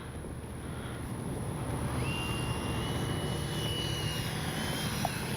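An FMS 70mm Yak 130 V2 RC model jet comes in to land with its flaps up, its steady whining turbine drone holding level at a distance while a thin tone slides upward and levels off.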